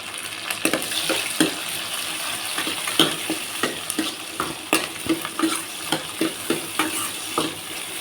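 Tomatoes added to a frying pan for a Tamil pudalanga (snake gourd) kootu, stirred with a spoon in steady scraping strokes over a continuous loud sizzle.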